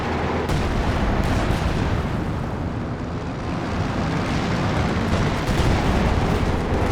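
Howitzer artillery fire rumbles through a Company of Heroes 2 battle, part of a loud, dense wall of booms and blasts. The explosions roll on continuously without a break, and no one speaks over them.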